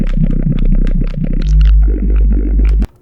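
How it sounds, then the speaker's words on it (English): A warbling, bubbly sci-fi synth texture from a Serum 2 preset that gurgles and burbles over a deep low drone, then cuts off abruptly near the end. "I just wanted to get some more like sci-fi sounding bubbly noises."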